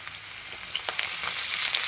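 Chopped ginger, curry leaves and mustard seeds frying in hot oil for a tender papaya curry, a close crackling sizzle with quick pops that grows slightly louder.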